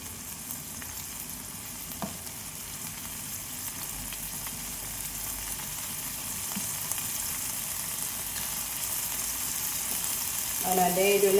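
Shallots and five or six dried red chillies fry in about two teaspoons of coconut oil, making a continuous even sizzle that swells slightly, with a stirring scrape near the end.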